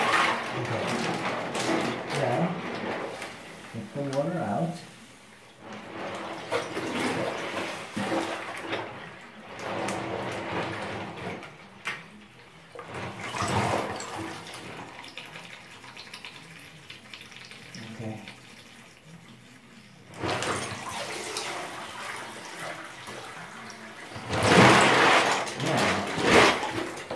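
Water sloshes and pours out of a plastic bin full of freshly washed Lego bricks, with bursts of draining and rattling interrupted by pauses, recorded close and fairly faint.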